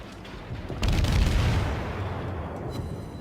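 A salvo of high-explosive shells striking a ship in the naval video game World of Warships, a heavy rumbling burst of booms that swells, then fades into a lingering low roar.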